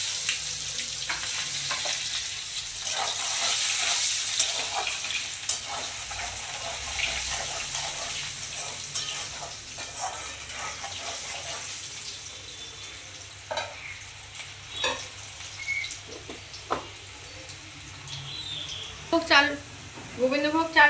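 Chopped onion dropped into hot oil with whole cumin, a bay leaf and cinnamon for a Bengali fish-head muri ghonto, a soft continuous sizzle and stirring with faint utensil clinks and a voice in the background.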